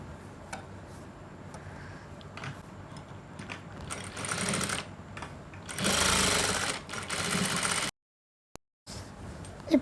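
Sewing machine stitching fabric for an umbrella gown, running in several short bursts with a louder sustained run near the middle, a brief pause, then resuming; fairly quiet and close.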